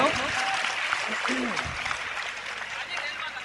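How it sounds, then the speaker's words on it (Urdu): An audience at an all-India Urdu mushaira claps, a moderate, scattered applause that fades gradually, with some voices and speech mixed in. "ایک زوردار تالی، ایک زوردار تالی ہو جائیے"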